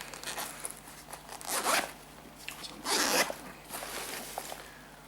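Zipper on an external pocket of a small laptop knapsack being pulled open and closed in a few quick rasping strokes, close and fairly loud, with quieter handling rustles between them.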